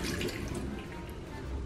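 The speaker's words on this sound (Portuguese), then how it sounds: "A torneira." Water runs from a tap in a steady, close, moderately loud rush that fills the whole moment without a break or any talk over it.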